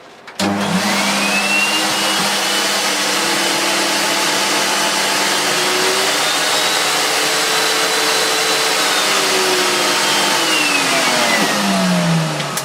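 A new Dirt Devil DD6102 vacuum cleaner, a Turbo Power 2 clone, switches on and runs with a loud, steady motor whine and a rushing airflow roar that holds throughout before it spins down near the end.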